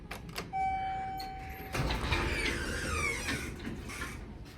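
A Dover hydraulic elevator door, modernized by KONE, slides open with a long rumbling scrape and faint whine, preceded by a couple of soft clunks and a brief electronic tone, at a department store in Fairlawn, Ohio.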